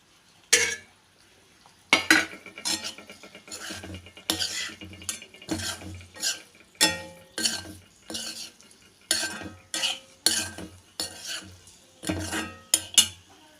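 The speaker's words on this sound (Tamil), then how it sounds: "இப்போ இந்த வதக்கி வச்சுருக்கிறதுல நம்ம கட் பண்ணி வச்சுருக்கிற முட்டையை சேர்த்துக்கலாம்" A spoon scrapes and clatters repeatedly against a pan as cut boiled egg pieces are stirred into sautéed masala, sharp metallic knocks in an irregular rhythm over a faint sizzle, close and distinct.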